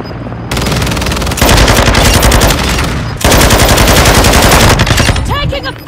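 Heavy automatic gunfire in Call of Duty: Modern Warfare II multiplayer, long loud sustained bursts of rapid shots close to the listener, broken by short pauses, with a brief voice callout near the end.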